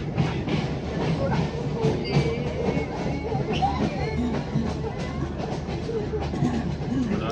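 Passenger train on the mountain line from Kandy to Nuwara Eliya in Sri Lanka nearing Galboda station, heard from inside as a steady rumble with rhythmic clickety-clack of wheels over rail joints and a faint hiss.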